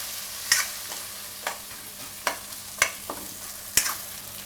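Onions cook in oil with spices and are stirred now and then, so a faint steady sizzle is broken by sharp, spaced clinks and scrapes of a spoon on the pan.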